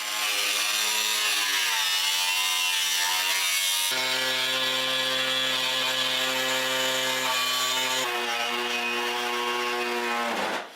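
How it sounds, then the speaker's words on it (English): Body saw cutting a car's inner fender, a continuous harsh buzzing drone of the reciprocating blade biting metal, close and loud, its pitch shifting in steps as the cut progresses before stopping. "Coming back with the body saw and kind of doing the finer cuts where I can get up tighter in the fender."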